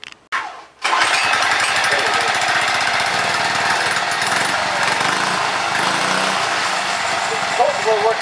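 A small motorized bicycle engine starts and runs loud and close with a rapid, rattling buzz that holds steady throughout.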